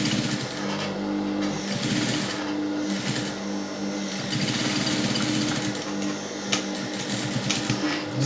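A sewing machine runs steadily, stitching a half-inch seam on a fabric bow tie, with a continuous close whirring drone throughout.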